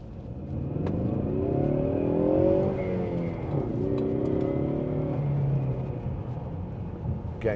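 A 2017 Ford Mustang 2.3 EcoBoost fastback accelerating on a road, heard from inside, its four-cylinder engine note rising and falling through the gears at moderate loudness with some background rumble.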